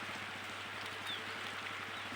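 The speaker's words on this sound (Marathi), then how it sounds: "ऊन बी पडलंय आणि पाऊस बी येतोय बघा" Rain falls steadily, a continuous dense hiss of drops with no voices.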